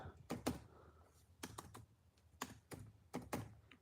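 Quiet bursts of typing on a computer keyboard, clustered clicks and key taps coming in short groups with brief pauses between, close by and with nobody talking.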